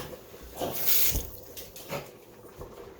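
Oily liquid poured into a cooking pan for chili makes a brief, soft splashing pour that swells and then fades.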